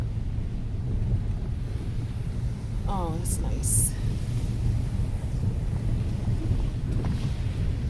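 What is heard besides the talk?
waves smashing against boulder rocks on Jamaican coast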